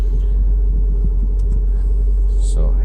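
A Mercedes 500SL engine idles with the air conditioning off, a loud, steady low rumble holding even throughout, with a brief higher whir near the end.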